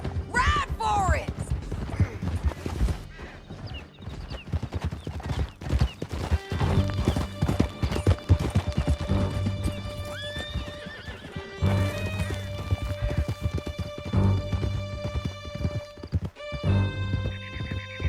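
Horses gallop at speed through a canyon in Red Dead Redemption 2, with steady rapid hoofbeats, a whinny, gunfire and a dramatic musical score, while voices shout over the action.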